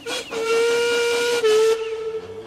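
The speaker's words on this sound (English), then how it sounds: "Duncan whistled as loud and as long as he could" A loud, sustained steam locomotive whistle blows close by in two long blasts, with a brief pitch shift between them and a hissing edge.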